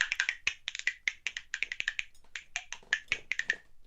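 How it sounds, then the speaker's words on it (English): Cooking spoons played as percussion, a rapid irregular run of sharp bright clicks and clacks, close and crisp with brief gaps between flurries. "the cooking spoons. And they have a better sound."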